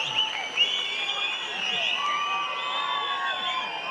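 Crowd at a Karnataka Congress political rally with Chief Minister Siddaramaiah breaks into sustained applause mixed with cheers and shrill whistles, a steady, dense wash of noise that holds for several seconds.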